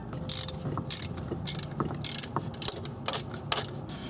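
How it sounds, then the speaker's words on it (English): Bolts being loosened and removed from a vehicle's belt auto tensioner, heard as a series of close, crisp ratchet clicks and metallic tool clatter in short bursts, with no talking. "let's go ahead and remove both bolts and take off the auto tensioner"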